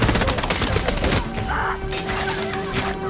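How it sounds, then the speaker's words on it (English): Dense bursts of gunfire on an airfield in an action movie rattle continuously, loud and close, with overlapping shots forming a chaotic barrage throughout. "Gunfire erupts everywhere."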